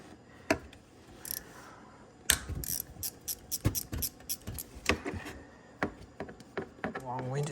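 Ratchet clicks while bolts are loosened on a 2008 Honda TRX500FM ATV during stator replacement, with bursts of quick ticking and metallic clacks, close and fairly quiet, and someone talking at times.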